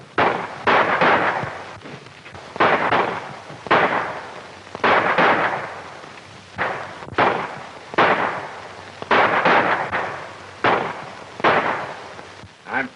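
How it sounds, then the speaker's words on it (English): Gunfire from a shootout outside in an old Western film, heard as a run of loud, evenly spaced blasts with echoing tails, roughly one per second, with no talk over it. "By the sounds of the shooting outside, I'll say it won't, too."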